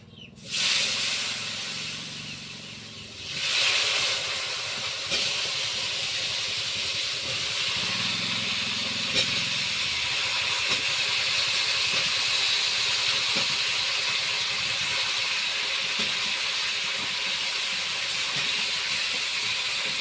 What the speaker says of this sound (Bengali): সেই তেলের মধ্যে আমি সবজিটা যে কেটে রেখেছিলাম আলু বেগুন আর লাউ আমি ওই ওটা ভেজে নিব